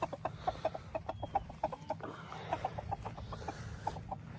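Several chickens cluck in quick, uneven bursts close by, a soft low hum running underneath the busy chatter.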